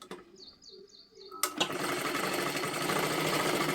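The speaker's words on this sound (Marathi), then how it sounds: "आता ह्याच्यावरती सुद्धा आपल्याला एक डबल शिलाई द्यायची आहे" A sewing machine stitching a double seam on a blouse, starting with a few light rhythmic ticks and then running fast and loud in a steady close whirring rattle.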